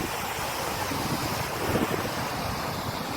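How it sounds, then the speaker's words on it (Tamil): Sea waves breaking on a beach, a steady broad wash of surf with wind buffeting the microphone, no voices, continuous and fairly close for the whole stretch. "அது கடல் அடிக்கும் போது அந்த ஓசை வருது"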